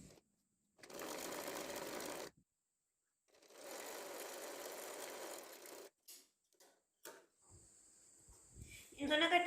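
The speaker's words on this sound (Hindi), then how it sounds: "इन दोनों को मिलाएंगे, अब यहाँ पर सिलाई लगा देंगे" Sewing machine stitching the front and back pieces of girls' shorts together, two quick bursts of close, whirring stitching separated by a pause, followed by faint clicks and fabric handling.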